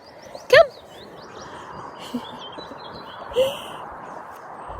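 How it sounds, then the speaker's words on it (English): A few scattered bird chirps from trees ring out against a faint outdoor spring morning background, with a couple of louder calls standing out. "I'm sure you can hear the birds"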